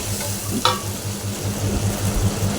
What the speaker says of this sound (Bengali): দিয়ে দিলাম আদা আর হচ্ছে রসুন বাটা দিয়ে ভালো করে মশলাটা কষিয়ে নেব